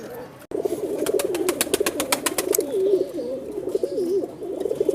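Golden Kamager high-flying pigeons coo up close in repeated rolling, warbling calls, with a brief quick run of clicks near the start.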